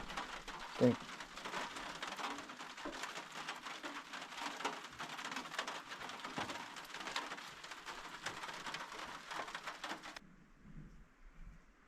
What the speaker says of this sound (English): It's been raining steady for the last 3 hours.